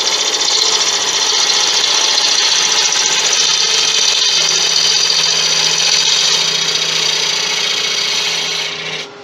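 A wood lathe turns and cuts Malaysian acacia for an incense burner, giving a steady, loud scraping whir with a continuous rasping edge that holds evenly for about nine seconds before the tool lifts off and it drops away.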